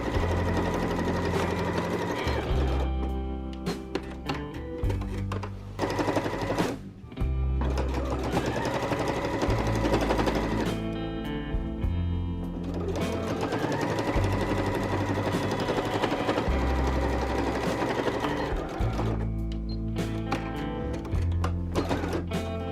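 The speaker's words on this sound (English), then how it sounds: "So we're just going to run a basting stitch along the neckline" A sewing machine runs a basting stitch along the neckline of a patchwork quilt jacket. It makes a loud, rapid mechanical chatter in long continuous runs with a few brief stops, and nobody talks.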